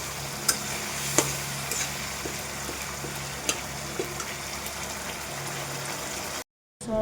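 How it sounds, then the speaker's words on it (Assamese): Ground fish masala paste frying in oil: a steady, close sizzle with occasional sharp clicks of stirring, cutting out briefly just before the end. "যিখিনি মই পেষ্ট কৰি থৈ দিছিলোঁ মিক্সিত, সেইখিনি ধুনীয়াকৈ এতিয়া মই তেলত ভাজি আছোঁ।"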